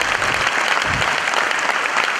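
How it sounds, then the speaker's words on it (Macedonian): An audience breaks into steady, continuous applause, a dense wash of many hands clapping at once with no voices over it. "Ајде, аплауз."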